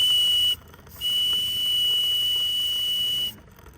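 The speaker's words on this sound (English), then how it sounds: "It's got a whistle." Steam whistle on an 800-horsepower steam engine boat on a pond, two loud sustained shrill blasts, a short one then a longer one of about two seconds, separated by a brief gap, no talking.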